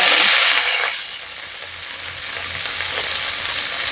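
A bundle of spinach hits hot oil with a loud burst of frying hiss that settles into a steady, dense sizzle and crackle.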